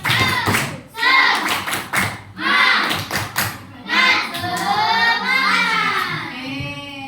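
Schoolchildren in a fifth-grade classroom perform a rhythmic clap chant, with bursts of sharp, patterned hand claps alternating with their loud, group voices chanting along in time.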